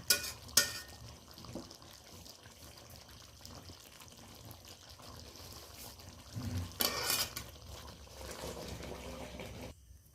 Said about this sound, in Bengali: আমি একটা পাত্রে ঢেলে নেব এবার